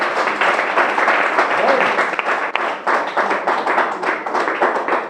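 A church congregation applauds in a steady, dense wash of clapping that lasts the whole stretch, loud and close, with some voices mixed in.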